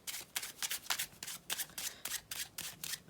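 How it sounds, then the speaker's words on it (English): Quick, regular bursts of cards being shuffled overhand, crisp papery riffling repeating in a steady rhythm, close and fairly quiet. "they can just push the card inside fairly and give it a overhand shuffle"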